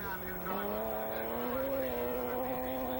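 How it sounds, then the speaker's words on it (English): Close by, a BMW straight-six rally car engine revs hard and climbs in pitch as the car accelerates at a stage rally in Barbados. "It certainly sounds well. BMW straight six engine."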